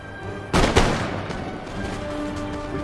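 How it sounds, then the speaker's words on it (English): Musketmen firing volleys in Empire Total War: two sharp, loud gunshot cracks close together, trailing into a rumbling battlefield din with faint scattered shots. "Look at the musketmen getting good work done. Shooting these guys out of their line."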